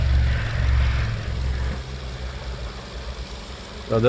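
A 2015 Nissan Altima 2.5 petrol engine idles with its oil filler cap removed, a steady low rumble that eases slightly midway, with a brief louder burst at the end.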